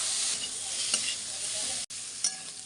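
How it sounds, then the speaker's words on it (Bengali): Eggplant sizzling steadily in a pan with onion, salt and turmeric, a continuous bright frying hiss with a couple of stirring scrapes and a brief gap. "বেগুনটা এখন ভাজা হচ্ছে।"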